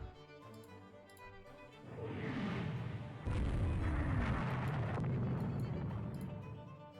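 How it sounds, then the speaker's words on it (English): Torpedoes launched in the naval video game Rule The Waves 2 set off a rising rumble that swells into a sustained, heavy booming roar, loud and continuous after a short ticking lead-in. "Launch those torpedoes, damn it."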